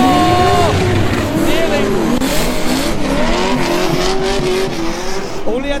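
A Nissan S15 drift car on a circuit, engine loud and close with sustained tire squeal as it slides toward the track edge, voices talking over it.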